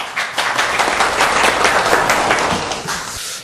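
Dense, sustained audience applause fills a forum hall on metropolitan development and regional regeneration, loud and steady for several seconds before tapering slightly at the end.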